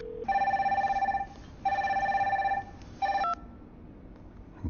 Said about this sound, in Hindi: साला फोन उठा।